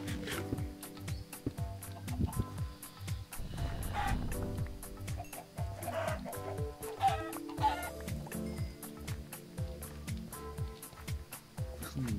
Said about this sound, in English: There are a lot of chickens.